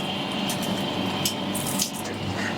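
Water pours in a steady, close stream into a large dough mixer as biga is started for pizza and bread. The splash and rush stay constant, with light clinks over the flow.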